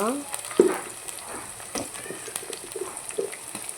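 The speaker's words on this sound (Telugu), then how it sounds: "ఆలుగడ్డ బెండకాయ వంకాయ అన్నీ వేసేసుకుందాం" Potato, okra and brinjal going into a hot pan for a Tamil Nadu-style tamarind stew, with scattered clatters and a soft sizzle beneath faint background chirps and noise.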